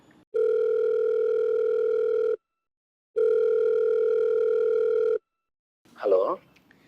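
A telephone dial tone sounds during an outgoing call, two steady, loud, even bursts of about two seconds each separated by a short silence, followed by a brief voice speaking.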